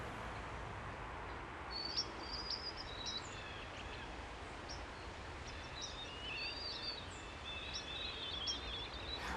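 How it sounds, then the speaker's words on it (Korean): Birds chirp and twitter faintly and intermittently in an apartment's garden terrace, small high calls scattered over a quiet outdoor hush. "정원을 보면 새소리가 들리더라고요."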